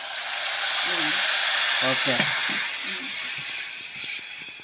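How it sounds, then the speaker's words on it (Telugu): Tamarind juice hits a hot pan in a Telangana-style dried-fish curry and sets off a loud, broad steamy hiss that fades gradually. Someone talks briefly over it. "ఇగో చింతపండు రసం పోతానా?"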